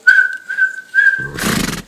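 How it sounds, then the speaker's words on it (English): A person whistles a tune out a window: clear, fairly loud sustained whistled notes in short phrases, followed briefly by a burst of broadband noise. "He whistled a tune out the window,"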